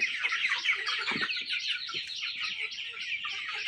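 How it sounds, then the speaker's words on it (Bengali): A flock of about five hundred Sonali chickens on a farm, a dense steady chorus of high chirps and clucks filling the air, with occasional lower clucks close by. "এখানে 500 পিস মুরগি আমার"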